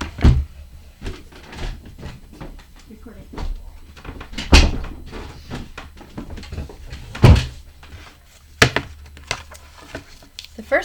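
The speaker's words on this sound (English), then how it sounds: "First, I'm going to shut the door." An indoor door is pushed shut, giving a couple of sharp wooden knocks and thuds against a quiet room background with faint low hum.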